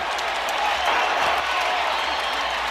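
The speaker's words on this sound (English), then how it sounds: "you hear the crowd reacting" Football stadium crowd roaring steadily after a touchdown in the 2025 Big XII Championship between Texas Tech and BYU, a dense, sustained wash of cheering and clapping from a large crowd throughout.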